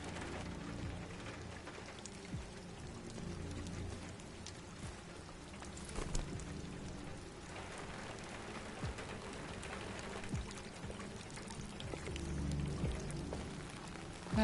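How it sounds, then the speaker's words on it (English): Steady rainfall pours across an outdoor scene in the Detroit Become Human video game, a dense continuous wash with occasional louder drips and clicks, running unbroken under low game ambience. "Why is it always raining here?"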